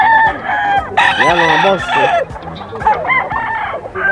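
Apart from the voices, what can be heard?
bull stag roosters crowing at a pet market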